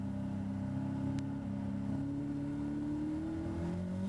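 A Caterham race car's engine climbs steadily in pitch under throttle on a flying lap of Donington Park GP circuit, a continuous buzzing drone heard from inside the car.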